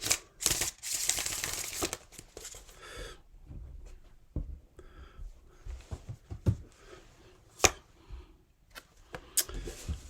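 Tarot cards shuffled by hand in a quiet room, with a burst of dense riffling near the start, then scattered soft slaps and taps as the deck is squared and handled.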